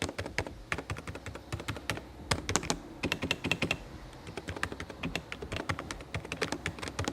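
Higround keyboard typing alone at a steady, fairly fast pace, dense crisp keystroke clicks with a few louder clacks, close and moderately quiet.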